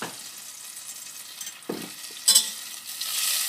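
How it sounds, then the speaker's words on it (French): Butter melts in a saucepan for a béchamel, a soft sizzle punctuated by a few louder clatters and stirring scrapes, close up with no talk. "on fait déjà fondre du beurre dans la casserole"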